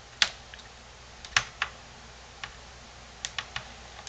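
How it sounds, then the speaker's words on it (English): Small clicks and taps from a screw being driven in beside a computer graphics card inside a PC case, a handful of sharp, quiet, irregular ticks close by with no talking. "now what we do is we're just going to screw in the screw that's right next, kind of next to the video card"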